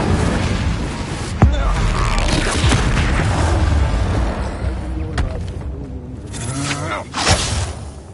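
Incendio fire spell cast during combat in the video game Hogwarts Legacy, a loud booming whoosh of flame amid dense battle effects and impacts.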